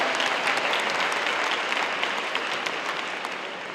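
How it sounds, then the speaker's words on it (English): Sustained applause from a large crowd in an auditorium at the Ottawa Hills High School 2019 graduation, dense and loud throughout, easing slightly toward the end. "may we have one more round of applause for our superintendent"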